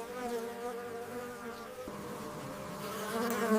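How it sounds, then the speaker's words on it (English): Honeybees buzz steadily while gathering nectar from flowering plants, a close, continuous hum of several insects that swells a little louder toward the end. "bees collect nectar from flowering plants"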